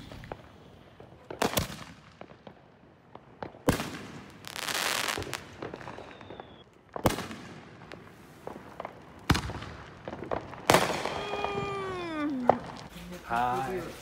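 Firecrackers go off in a street as several sharp bangs and pops, some with crackling or whistling tails, spread over steady outdoor noise and mixed with people talking and a meowing cat.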